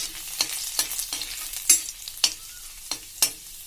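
Garlic hitting hot oil in a pan while making veg spring rolls, a soft sizzle broken by several sharp scraping stirs of a spatula, close and moderately quiet, with no voices.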